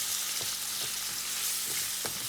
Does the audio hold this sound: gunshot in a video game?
no